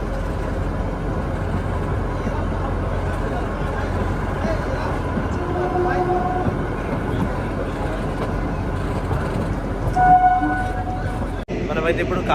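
The Shivalik Deluxe Express 52452 rolls into Kalka station with a continuous low rumble and rattle, and someone talks over the noise throughout.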